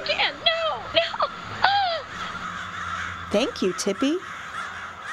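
Harsh crow-like cawing from a flock of birds, several loud caws in bursts, with a spoken voice over part of it.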